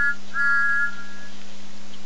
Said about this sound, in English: He whistled when he saw him coming.